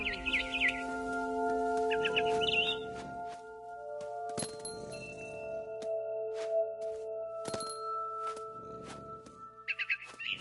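A barn swallow chirps in short bright bursts outside a window, near the start, midway and again at the end, over a steady tonal background.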